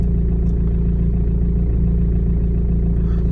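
A 2013 Renault Megane MK3 with the 1.5 dCi K9K diesel engine, which has a loss-of-power fault, idles at about 850 rpm. It makes a loud, steady, low diesel rumble with an even clatter, recorded close to the engine.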